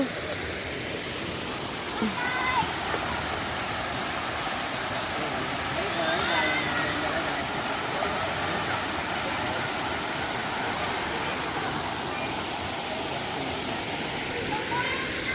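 A small waterfall at a hot spring in Krabi, Thailand, rushes as a steady, even wash of water that fills the scene, with people's voices faintly mixed into the busy background.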